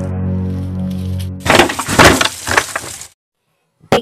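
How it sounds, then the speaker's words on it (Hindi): A door is smashed in during a crime-drama scene: low musical tones give way to a loud burst of cracking, splintering impacts lasting about a second and a half, then a sudden drop into silence. "तोड़ दो दरवाजा"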